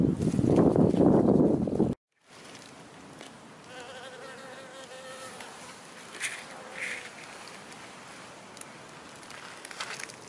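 Honeybees foraging on henbit flowers outdoors, a soft close buzzing that rises and falls as bees move between blossoms, following a loud rustling burst at the start.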